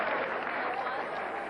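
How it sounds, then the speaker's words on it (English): Applause from a Republican unity breakfast crowd cheering its state office nominees, a steady dense clatter of clapping hands filling the room, fairly loud and unbroken throughout. "It was a unity breakfast for the Republicans, who applauded their winners"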